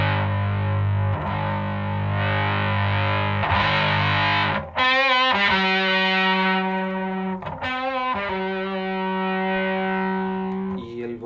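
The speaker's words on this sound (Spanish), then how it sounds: "Turbo Rat es una distorsión, un overdrive que fabrica Proco." An electric guitar played through a ProCo Turbo Rat distortion pedal gives thick, sustained, heavily distorted chords that are loud and continuous, with a few quick chord changes and brief breaks.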